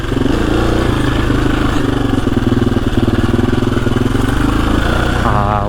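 A KTM EXC-F 350 dirt bike engine runs loud and close on a wooded trail, a steady throbbing drone that holds its pace throughout, with a brief change in tone at the very end.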